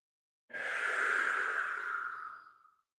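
A single deep, slow breath during a qigong exercise, drawn in steadily through the nose for about two seconds and then fading out, close and clear in an otherwise silent room.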